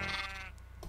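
A single sheep in Minecraft gives one short, wavering bleat up close, fading out after about half a second over quiet game background.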